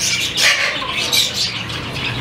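Caged birds, including finches and parrots, at a bustling bird market: dense overlapping squawks and shrill chirps, loud and continuous, with many birds calling at once close by.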